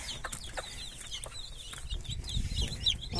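Chicks from three broods peep and chickens cluck and call on a countryside farm. Many high, thin peeps repeat quickly and close by over lower clucking, with no talk.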